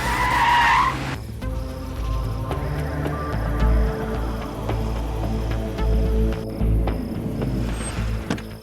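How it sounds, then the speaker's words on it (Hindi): A car, likely a police vehicle, skids to a stop near a house in a Hindi-dubbed action thriller, a brief tire squeal up front giving way to a steady engine rumble and hum with scattered clatter. "शायद मास गैंग वालों के घर के पास गाड़ी रुकी है।"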